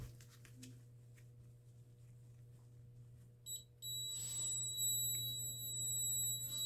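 A multimeter continuity test on the switch wires of an AO Smith water heater gives a steady high-pitched electronic beep that starts partway through and holds, faint, over a low mains hum.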